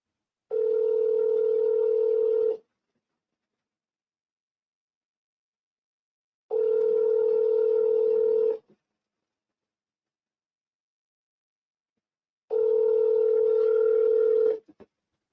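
A telephone line sounds a steady ringback tone while a call goes out, three identical two-second tones separated by about four seconds of silence, clean and alone.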